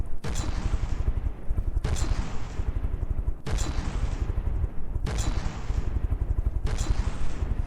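Advanced cannons fire in the naval combat game From the Depths, with five heavy booming shots at a steady rhythm over a continuous low rumble, loud and close.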